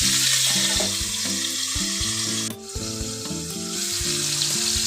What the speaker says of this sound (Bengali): এবার এই তেলেই আমি দিয়ে দেবো ফুলকপিগুলো